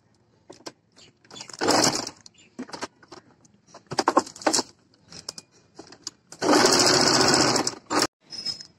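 Bursts of an electric sewing machine stitching the middle seam of a simple kurti, short runs then a longer steady whir, stopping and starting close by with quiet gaps between.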